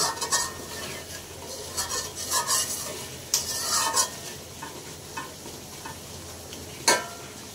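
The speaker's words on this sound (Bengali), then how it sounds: "তো মাছের মাথাটা দিয়ে তেল দিয়ে কিছুক্ষণ নাড়াচাড়া করব।" Pangas fish head stirred in hot oil in a pan, with a steady sizzle and intermittent scraping strokes of a utensil against the pan, close and fairly loud, no voices.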